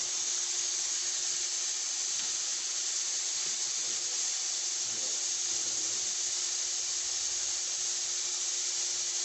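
An aluminium powder making machine built by mechanical engineering students runs with a steady, high-pitched hissing whine that stays level for the whole stretch, with no talking.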